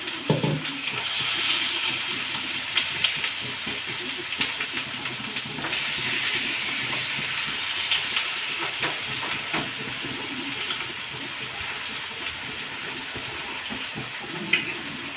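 Pressure cooker with sambar inside, giving off a steady, continuous steam hiss for the whole stretch, with some faint clatter in the background and no speech.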